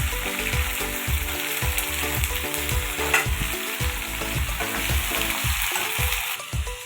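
Washed vegetables frying in a pan with small fish, a steady close sizzle broken by repeated stirring scrapes throughout, with no talking.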